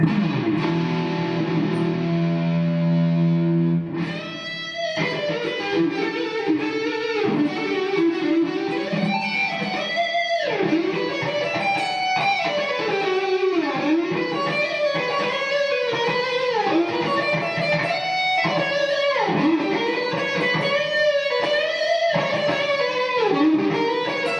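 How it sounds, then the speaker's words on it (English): An electric guitar played through the neck pickup with distortion runs a fast, shreddy solo of bending, sliding lead lines, opening with a sustained chord before the quick melodic runs take over. "we're going to go to the neck pickup now and just check out some shreddy, goofy solo tones"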